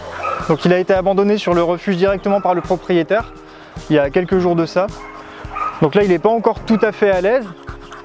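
A nearly three-year-old dog named Vagabond, recently surrendered at an SPA animal shelter, gives repeated high whimpers, short yips and panting at close range, with a person talking over and between the sounds.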